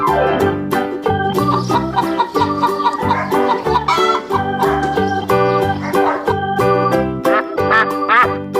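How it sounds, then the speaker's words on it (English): A cartoon rooster's calls and clucks come and go over a loud, busy children's music track, the bird sounds partly blended into the steady tune. "Rooster."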